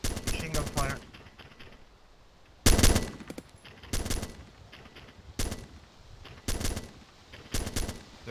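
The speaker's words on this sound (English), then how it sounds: "Take fire. Take fire. Machine gun fire. Machine gun fire." Machine gun fire in the ArmA2 combat game, several short bursts of rapid loud shots spaced a second or so apart, one heavier burst near the start, with quieter background between.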